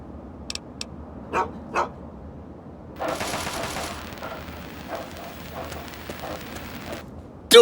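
Dog barks in the video game Fallout 3: a few short, sharp barks early on, then quieter game ambience with scattered faint noises.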